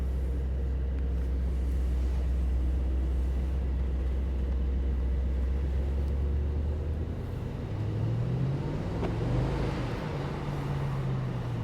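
A Mercedes-Maybach SL 680 with its roof open, driving quietly in comfort mode: a smooth, steady low road and engine rumble with a gentle rising tone near the end.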